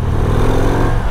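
A 2022 Harley-Davidson Road Glide ST with its stock 117 engine runs close by, a loud, steady low-pitched idle rumble that lasts only about a second.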